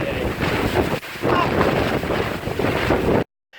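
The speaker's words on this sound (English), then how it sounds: "Santa Ana winds are vicious. I mean vicious." Strong Santa Ana wind with gusts of 60 to 70 mph roars and buffets the microphone, with a brief lull before it cuts off abruptly near the end, in California.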